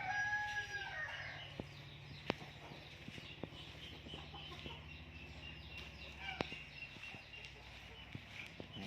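A rooster crows once near the start among backyard chickens, a faint call over quiet ambient noise scattered with light clicks and knocks.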